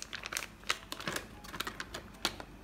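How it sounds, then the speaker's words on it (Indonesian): A spoon stirs unmelted margarine into a thick rice flour batter for bakwan fritters, making quick, irregular clicking and scraping strokes close by, with no talking. "Margarinnya tidak perlu dicairkan, jadi langsung aja begini diaduk."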